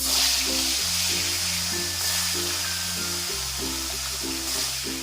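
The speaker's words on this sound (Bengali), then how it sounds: "কড়াইটা গরম হয়ে গেলে পরে মাছটা আমি ভেজে নেব।" Katla fish frying in hot mustard oil in a kadai, a steady close sizzling hiss that runs throughout over a tonal musical backing, with no talking.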